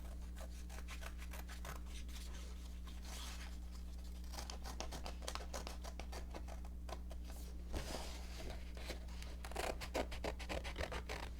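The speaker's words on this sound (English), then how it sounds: "So I'm going to go in and I'll really carefully cut out my bunny." Scissors snip through a painted paper bunny cutout, making faint, rapid, repeated cutting and rustling strokes over a low steady hum, with no talking.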